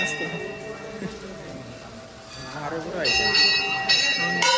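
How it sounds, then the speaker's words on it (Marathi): A temple bell is rung in repeated strikes, its bright ringing tones swelling and persisting in the latter half while people talk nearby. "दे ना बेल दे बेल दे बेल दे ना दे एवढा"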